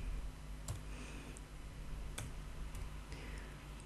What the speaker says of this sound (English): Let me type it again for you.